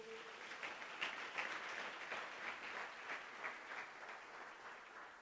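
A church congregation applauds during a sermon, a soft, distant wash of many hands clapping steadily at low volume, continuing evenly with no voices over it.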